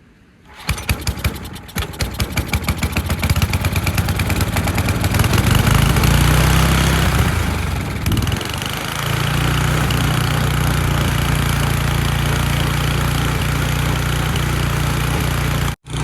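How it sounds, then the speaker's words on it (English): A snow blower starts up in the cold with a rapid popping chug and then settles into a loud, steady running drone close by. Nobody speaks over the engine. "So I'm gonna snow blow some of that and get rid of some of those drifts."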